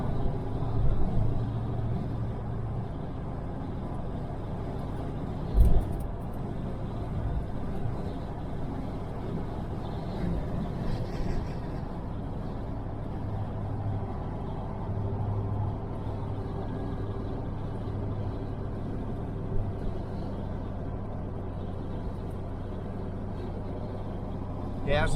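A restored 1968 Chevelle Nomad rolling down the road at about 50, a steady low engine hum and road noise from inside the car for the whole stretch, with someone talking over it and a couple of bumps.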